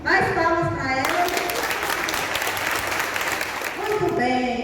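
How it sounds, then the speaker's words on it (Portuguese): An audience at a school reading-mediators training session applauds for about three seconds, with a voice talking just before and just after the clapping. "Mais palmas para elas."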